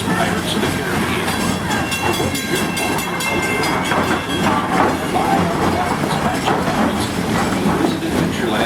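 The Roger E. Broggie steam locomotive at Disney's Magic Kingdom, a park train ride heard from aboard, with constant rumbling, rhythmic clickety-clack of wheels and a hiss, loud and continuous throughout.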